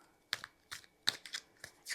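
A deck of cards gets shuffled by hand: a handful of quiet, separate papery snaps and riffles in an uneven rhythm, up close with no voices.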